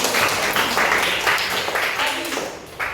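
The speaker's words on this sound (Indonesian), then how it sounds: "Kasih tepuk tangan dong." Students in a classroom clap together at a teacher's prompt, a close, fairly loud patter of hands with a rhythmic pulse, tapering off toward the end with a brief voice or bump.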